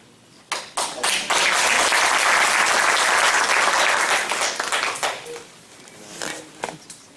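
An indoor audience at a training seminar breaks into loud, sustained applause after presentations, many hands clapping steadily for several seconds before tapering off into scattered claps.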